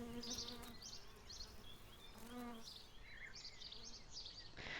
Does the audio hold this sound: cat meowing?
no